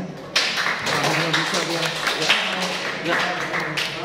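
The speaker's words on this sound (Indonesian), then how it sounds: "aplaus buat Medan" Classroom applause for a student speaker in a civic education class, a sudden burst of many hands clapping that holds steady for a few seconds, fairly loud and close, with voices underneath.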